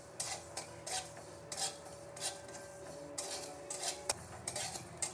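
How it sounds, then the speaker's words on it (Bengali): White sesame seeds dry-roast in a pan, with a metal spoon scraping and stirring in repeated rhythmic strokes, close and crisp with a faint rattle and no talking. "সাদা তিল কটা একটু শুকনো খোলায় ভেজে নেব।"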